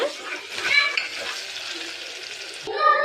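Sliced onion frying with fennel and cumin for garlic onion rice, a steady close sizzle with stirring scrapes throughout and a brief louder burst near the end, no voices.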